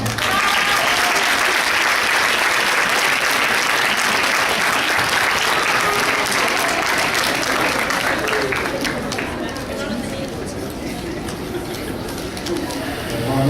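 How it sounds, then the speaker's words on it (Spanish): Dense, sustained audience applause at a lecture, loud and continuous, thinning slightly toward the end. "un aplauso para él, por favor"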